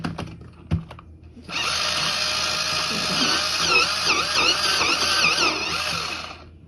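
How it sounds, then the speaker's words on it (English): A misbehaving pencil sharpener grinds a coloured pencil in one continuous, close whirring buzz lasting several seconds, with a wavering pitch as the lead turns, after a couple of light taps. "And my sharpener is misbehaving a little bit."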